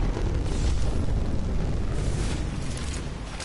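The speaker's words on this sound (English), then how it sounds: "Valkyrie on standby, ready for burn. Main engine burn." Loud, sustained roaring rumble of Valkyrie's ultimate rocket engine burn in Apex Legends, a dense broadband blast holding steady for several seconds before easing off slightly, with no talk over it.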